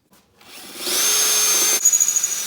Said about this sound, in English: next I gotta drill these holes to put the fuel tank down in place